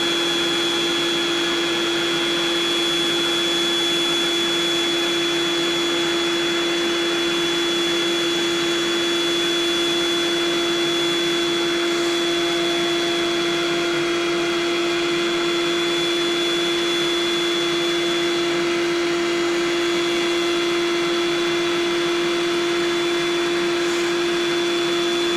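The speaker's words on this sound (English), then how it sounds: "It's inflating nicely." Built-in electric pump of an Outbound twin double-high air bed runs continuously, a loud steady whirring drone with a constant pitch and no pauses.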